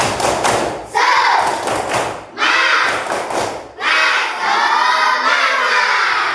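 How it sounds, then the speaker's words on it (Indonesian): A school class performs the rhythmic 'tepuk semangat' spirit clap: quick bursts of loud unison clapping and thumping, broken by short pauses, with children's voices chanting along in between. "Tepuk semangat dulu."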